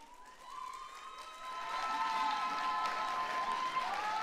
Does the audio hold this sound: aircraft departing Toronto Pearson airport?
no